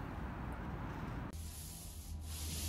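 Steady abrasive rubbing of a painter sanding a patched wall on a job site, a continuous close scratchy hiss that shifts briefly in tone partway through, with no talk.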